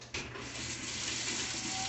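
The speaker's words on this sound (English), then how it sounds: "So I'm going to give this a quick rinse." A kitchen tap starts abruptly and runs in a steady, close, rushing stream for a quick rinse, with no talking.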